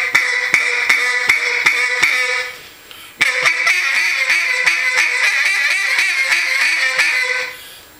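A duck call blows a Cajun squeal, a rapid series of raspy, rising squealing quacks, pausing briefly before launching into another fast, loud run.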